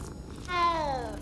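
A black cat in Hogwarts Legacy gives a single drawn-out meow that rises and then slides down, clear and close, over a low game ambience.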